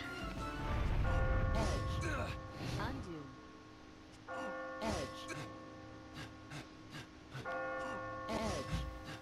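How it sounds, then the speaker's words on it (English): A heavy bell tolls at the start of a level in the video game Catherine, striking three times at even intervals with long ringing tones over low, rumbling game audio. "the level begins with that damn bell going off"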